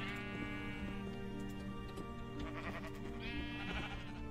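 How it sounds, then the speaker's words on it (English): Sheep bleat repeatedly in Minecraft, their wavering calls rising over a steady game background hum, fairly close and continuous with no talk. "listening to the sheep bleat around at us"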